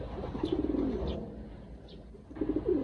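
Racing pigeons kept as stock breeders coo nearby, with soft repeated throaty coos over faint background rustle.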